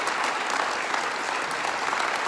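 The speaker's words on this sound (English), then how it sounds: "All right, keep clapping." Sustained audience applause filling the room at an event, steady and dense throughout with no pauses or clear voices.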